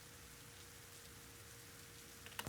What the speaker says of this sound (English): Then I have a rain texture that goes throughout the whole track almost.